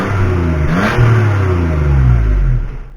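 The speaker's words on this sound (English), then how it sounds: "find out how loud, or really how quiet, the exhaust is" A 2013 Toyota Sienna minivan with its muffler deleted revs loudly, the exhaust note climbing and sliding in pitch through repeated throttle blips before easing off, heard from close by inside the van.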